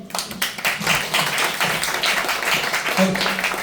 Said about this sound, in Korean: 여러분 격려 박수 좀.